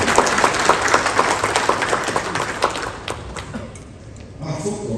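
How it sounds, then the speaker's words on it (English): Applause for the sponsors at the Nigeria-India Presidential Business Conference, a brief burst of clapping that fades after about three seconds before a voice resumes speaking. "Let's give them a round of applause,"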